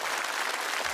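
Dense, steady applause from a studio audience on a television show, greeting a finish after a high-speed skating feat; a continuous close wash of many hands with no break and no voices on top.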